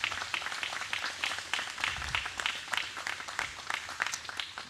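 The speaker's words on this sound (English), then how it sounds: "I'd like you to give our MedStar employees a round of applause" Crowd applause for ambulance service employees at a Fort Worth city event, a fairly quiet but steady patter of many hands clapping at medium distance that holds throughout.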